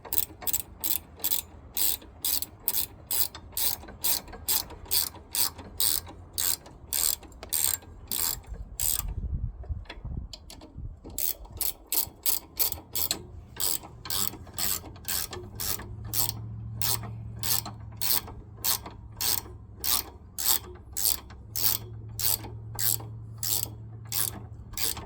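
A ratchet wrench fitted with a 17 mm socket clicks in steady rapid strokes while turning bolts during a Wacker roller engine replacement, loud and close, with a brief pause midway and no talk.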